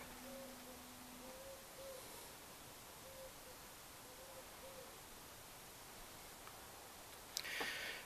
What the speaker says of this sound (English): Hear the owls over there in the woods?